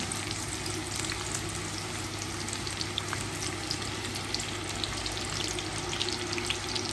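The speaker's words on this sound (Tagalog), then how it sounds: "Si Amiga naglagay uh, na ng bawang dito. At luto na tayo." Garlic fries in a pan for a potato dish, a steady close sizzle with fine crackling pops throughout, no one talking.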